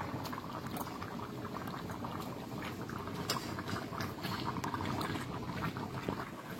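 Fish simmering in a pot of curry, a steady loud bubbling boil that runs without a break from start to finish, with no voices.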